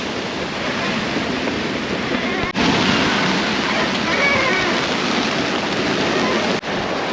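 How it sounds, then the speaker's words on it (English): Strong wind over 20 knots roars steadily across the microphone as 3-meter ocean waves churn and crash while sailing between Bora Bora and Tonga, loud and continuous throughout. "the wind is blowing harder and the waves are bigger, let's say 3 meters waves and over 20 knots of wind"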